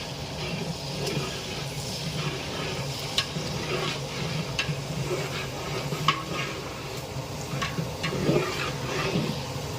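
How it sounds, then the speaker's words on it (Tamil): Onion, coriander and curry leaves sautéed in a pan for sambar rice, producing a continuous soft sizzle under frequent light stirring clinks and scrapes, fairly quiet and close. "கொத்தமல்லி, கருவேப்பிலை அதையும் இப்பயே போட்டு நல்லா வதக்கிடுங்க"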